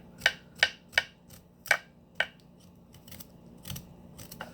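A kitchen knife peels a whole parsnip in a run of about five sharp, crisp scraping strokes at an even pace, close and clear, followed by softer, more scattered scrapes.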